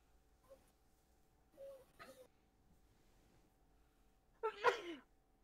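A single sharp human sneeze near the end, preceded by a couple of faint breathy sounds, in a quiet indoor room during a tabletop game session.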